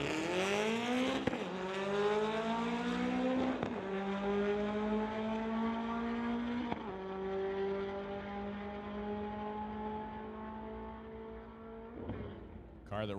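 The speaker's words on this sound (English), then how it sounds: "Car that runs in the super shifter category. You could hear him shifting, heading down track." Drag racing car from the super shifter class at an old-time drags event, engine climbing steadily in pitch through each gear with about four sharp shift breaks, a loud continuous roar heading down the track.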